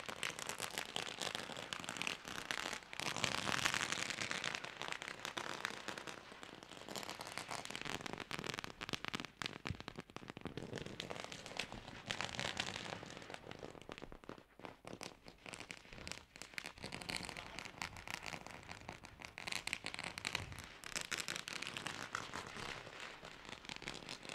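Dense, continuous crackling of firecrackers going off in rapid bursts at a sports tournament opening ceremony, sustained and fairly distant, without pause for the whole stretch.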